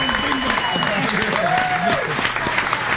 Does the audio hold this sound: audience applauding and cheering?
yes